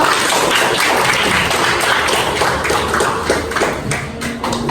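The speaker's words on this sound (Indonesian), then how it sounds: "Boleh tepuk tangan untuk kelompok." A classroom audience applauds a student group, a dense steady patter of many hands clapping together, close and loud, easing slightly toward the end with no talk over it.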